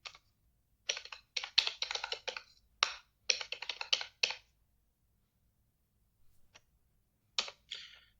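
Keystrokes on a computer keyboard while an online exam application form is filled in, coming in quick bursts of close, crisp clicks separated by pauses, with nobody talking.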